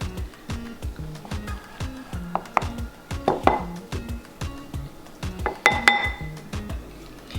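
A spoon clinks and taps against a bowl as rice is scooped in for a homemade Chipotle-style bowl, with repeated close knocks and a few bright metallic pings over a soft low hum.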